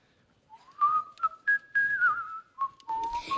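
An elderly man whistles a bright melodic tune in a street scene from a stage show, close and clear, with short phrases broken by brief pauses.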